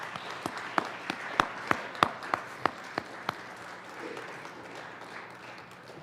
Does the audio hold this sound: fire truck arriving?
no